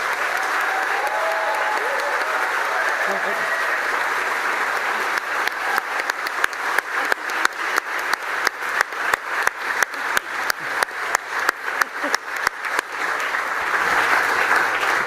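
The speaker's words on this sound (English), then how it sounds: "Let's give a first round of applause." Applause at the CineMerit award ceremony at the Munich film festival as Stellan Skarsgård is welcomed: broad, sustained clapping from a large audience that turns into rhythmic, synchronized claps, then swells back into a general ovation.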